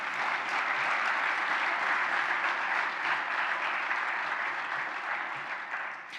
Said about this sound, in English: how about a round of applause for our friends at the Green Bay Packers